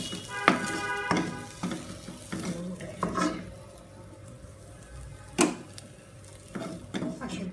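Coriander leaves for tomato chutney fry briefly in a pan with the heat just switched off. A spatula scrapes and clinks against the pan in a few separate strokes, and a soft hiss of oil fades between them.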